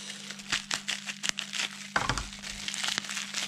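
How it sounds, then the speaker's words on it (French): Plastic packaging of AliExpress fishing lures being unwrapped, giving close crinkling and crumpling with a few sharp crackles and a heavier rustle near the end. "c'est pour ça que je voulais les déballer ensemble"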